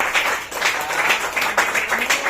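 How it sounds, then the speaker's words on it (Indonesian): A class joins in a short burst of group clapping at the end of a lesson, loud and close, with uneven rhythmic surges of hands running the whole way through. "Tepuk tangan untuk kita semua."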